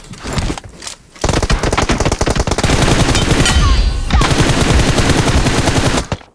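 Dense automatic gunfire in the mobile battle royale game PUBG Mobile, loud rapid bursts running almost continuously with brief pauses, close and sharp, with no speech over it.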